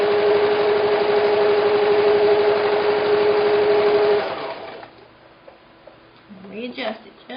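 A sewing machine runs steadily while stitching quilt pieces into a bear tracks block, a loud continuous hum for about four seconds, then stops, leaving quiet handling sounds.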